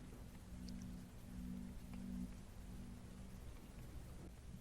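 Rain falls steadily in the Vampire: The Masquerade video game, a soft hiss with a low rumble of thunder rolling underneath, faint and continuous, with no talking.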